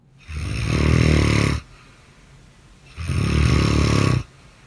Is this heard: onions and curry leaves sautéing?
no